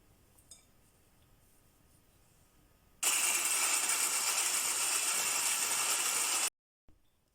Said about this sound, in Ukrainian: І збиваємо знову міксером.